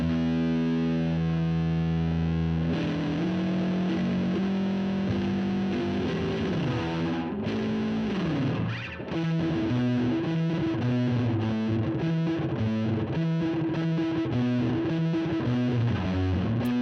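Electric guitar played through an Old Blood Noise Excess V2 distortion pedal, sustained saturated chords giving way to choppy rhythmic riffing with warbling, modulated texture, loud and continuous with no voices.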